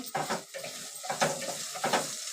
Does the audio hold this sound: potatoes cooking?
yes